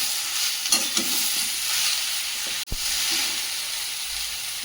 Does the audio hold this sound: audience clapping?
no